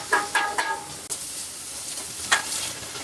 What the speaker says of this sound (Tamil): இது நல்லா கடுகு பொரிஞ்சிருச்சு.